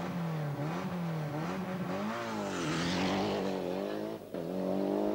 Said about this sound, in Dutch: Hier de start van Erwin Weber en Manfred Hiemer in de VR4